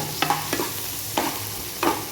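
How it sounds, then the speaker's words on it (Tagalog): Chopped onions are sautéed in a hot pan for a creamy barracuda dish with mushrooms, with a steady sizzle broken by several distinct scraping stirs of a utensil. "Ayan, gisa-gisa lang muna."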